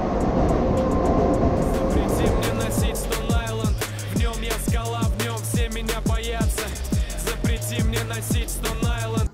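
A metro train rumbles and clatters through the station, with a steady rhythmic clacking of wheels over rail joints and a loud, close roar.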